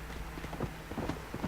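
Horse hooves galloping in Red Dead Redemption, a quick, uneven clip-clop rhythm of soft hoof strikes close by under low background rumble.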